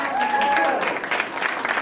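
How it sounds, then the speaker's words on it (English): Parents clapping at a third-grade Tikkun and Chumash ceremony in a school building, a short burst of group applause with voices underneath. "Let's clap."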